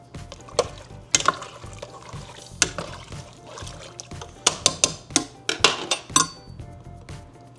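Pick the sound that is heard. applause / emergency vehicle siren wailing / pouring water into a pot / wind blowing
pouring water into a pot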